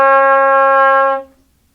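Trumpet sounding a single sustained low D that runs sharp because the third valve slide is not extended, a clear, steady, close note held just over a second before it cuts off.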